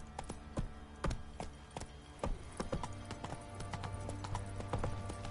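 A horse's hooves clip-clop in a steady, brisk rhythm on firm ground in a fantasy role-playing game, the hoofbeats close and distinct, with a faint low hum beneath and no talk.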